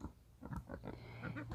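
Pigs grunting and snuffling in a fenced garden pen shared with chickens, several short low oinks close by but fairly quiet, alone without talk.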